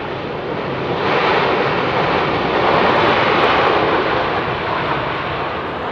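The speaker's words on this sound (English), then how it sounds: "Nick Ray, WestJet 787 next to land" A WestJet Boeing 787 airliner landing at Heathrow in fog makes a loud, continuous broadband engine roar that swells slightly as it passes close by and then holds steady.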